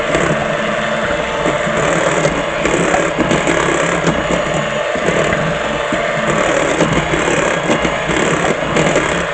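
An electric beater runs at low speed mixing vegan meringue, giving a loud, steady mechanical whir with a faint rattling texture that holds throughout, and no talking.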